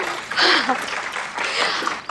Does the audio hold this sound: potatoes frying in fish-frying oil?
no